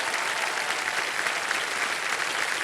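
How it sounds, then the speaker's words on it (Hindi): A studio audience on the quiz show set of Kaun Banega Crorepati claps in welcome, a continuous, even roar of many hands close and loud with no pauses. "तालियों के साथ इनका स्वागत किया जाए।"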